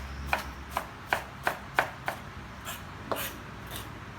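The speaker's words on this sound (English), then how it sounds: "I like to chop my onions pretty fine when it comes to things like potato salad" A knife chops onions finely for potato salad, giving about ten crisp, evenly spaced taps close by, with a short pause before the last few strokes and no talking.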